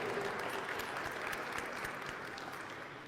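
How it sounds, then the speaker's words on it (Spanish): Children in a catechism class applauding together, a steady, moderately loud patter of many small hands clapping that gradually fades. "Vamos a darles un aplauso a los que sí estudiaron en el catecismo."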